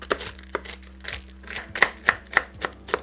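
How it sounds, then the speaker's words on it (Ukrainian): Dried nuts being finely chopped with a knife on a board in a kitchen, a quick series of sharp close knocks, irregular but steady, with no talking. "Після підсушування горіхи дрібно нарізаємо ножем."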